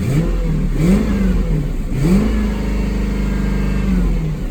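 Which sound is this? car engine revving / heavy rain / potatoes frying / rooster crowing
car engine revving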